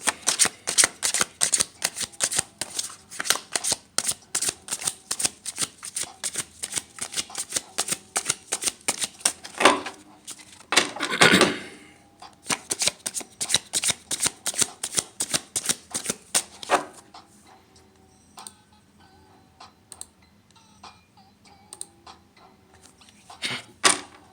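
Tarot cards shuffled by hand, rapid crisp riffling clicks in dense bursts with a brief louder flurry near the middle, then sparser card sounds toward the end, close up with no speech.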